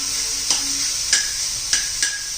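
Grated coconut stirred and roasted in ghee in a pan for a Maharashtrian sweet coconut rice, giving a steady soft sizzle with four brief scraping strokes of the spoon, close and moderately loud, without talk.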